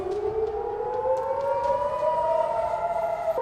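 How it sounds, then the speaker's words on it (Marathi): A civil defense air raid siren wails steadily during a mock drill, its rising tone loud and sustained with no voices. "हवाई हल्ल्याच्या पार्श्वभूमीवर सायरन अलर्ट।"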